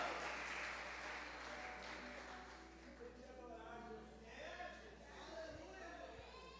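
Church congregation clapping during an evening worship service, a broad wash of applause that thins as voices and chanting rise over it, with a low steady hum underneath.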